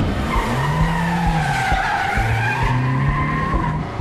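Cars in the video game Quantum Break screech their tires in a multistory parking structure, with long wavering squeals over a continuous engine roar, loud and up front.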